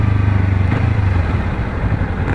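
A motorcycle engine runs steadily and loud up close, its rumble dipping and rising again as the rider works through up- and downshifts.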